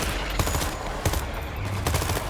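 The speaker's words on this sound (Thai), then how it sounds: "เสียงปืน เสียงปืน ข้างล่างมีอะไร" Gunfire in the World War Z video game: rapid bursts of automatic weapon fire crackle in clusters, dense and fairly loud, with no speech over them.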